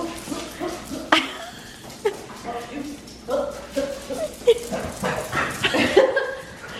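Dogs yip, whimper and bark in short bursts at close range, scattered through a lively home setting where people keep talking over them.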